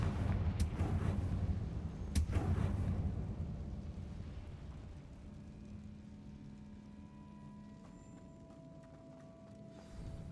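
Confringo fire spell explosions from Hogwarts Legacy: two sharp, loud blasts in the first seconds, then a rumbling roar that fades to a low hum with faint tonal game sounds.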